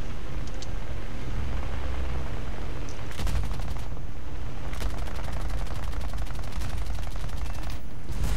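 Aircraft gunfire from a B-25 Mitchell fitted with a 75mm cannon in the video game War Thunder comes as several rapid bursts over a constant loud engine drone, with no speech.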